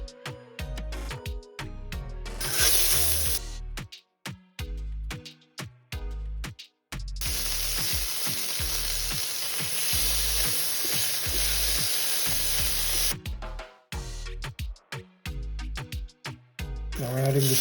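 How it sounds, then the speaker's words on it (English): Beef tips searing in olive oil in a large pot give a loud, steady sizzle, broken by clattering stirs and scraping, with someone talking at times. "I'm going to add some olive oil, and then we're simply going to sear the beef tips."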